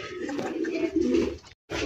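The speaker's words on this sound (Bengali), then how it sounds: "দেখেন কত সুন্দর এক জোড়া কবুতর পাইতেছেন" A pair of pigeons coos softly up close in a low throaty run, with a short gap before another coo near the end.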